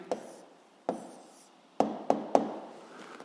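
A pen writes an answer on paper or a desk, making a few sharp taps and short scratchy strokes. Two are spaced apart, then three come quickly in a row, quiet and close.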